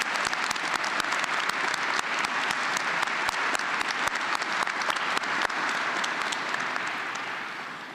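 An engineering commencement audience applauds PhD graduates with steady, dense clapping from a large crowd that holds for several seconds before tapering off.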